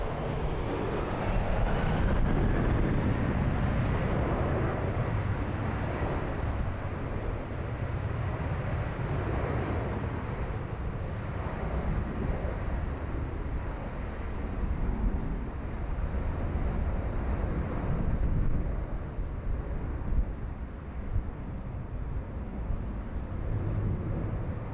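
Qantas 81, an airliner bound for Singapore, taking off from Sydney Airport: a steady, broad jet roar that swells and holds for many seconds, heard from a distance and alone.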